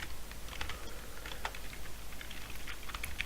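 Rapid, steady typing of C code on a computer keyboard, with close, quiet key clicks running continuously over a low background hum.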